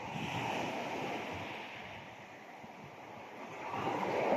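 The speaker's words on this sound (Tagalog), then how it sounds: "Malakas ang hangin." Steady, strong wind roaring across the microphone with a broad rushing wash like surf, continuous and fairly loud throughout.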